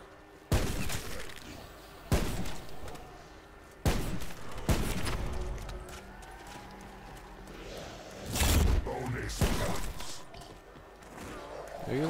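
Gunshots in Call of Duty Black Ops 4 Zombies, several sharp, loud bursts scattered across the moment among game noise, with players talking in between.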